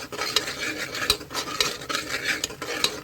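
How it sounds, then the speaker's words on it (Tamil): A spoon scrapes and clinks against a bowl while homemade spice powders, including chaat masala and dry mango powder, are stirred together in quick, irregular strokes, close and fairly loud. "இவங்க எல்லாரையுமே நல்லா மிக்ஸ் பண்ணிக்கணும்."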